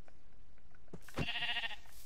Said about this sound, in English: Yeah, it's a black sheep. No, it's a gray sheep.